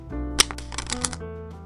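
A deck of playing cards is riffled, producing a quick flurry of crisp clicks and flutters that lasts about a second and ends in a soft settle.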